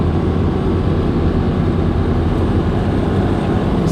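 Lifted, three-link 1-ton Land Cruiser cruising on a highway at about 65 to 70, a loud continuous rumble of engine, tires and wind with no letup.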